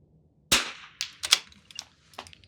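A rifle at an NRL22 range match fires: one sharp, close crack, then several quicker, lighter reports follow with short gaps.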